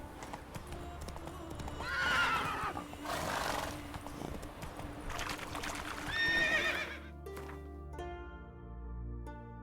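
Roach, a horse in a video game, galloping with steady rhythmic hoofbeats while letting out several loud whinnying neighs, close and prominent, before the hooves fade and a soft musical tone takes over.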